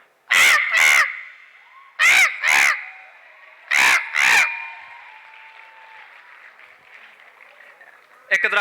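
A performer at a youth festival mimics a crow cawing from a minaret, giving three pairs of loud, harsh caws with pauses between them. A crowd murmurs and applauds beneath and after the calls.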